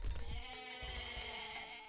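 Goats bleat in the Age of Mythology video game, several overlapping tremulous calls close up and fairly loud, carrying on steadily with no talk.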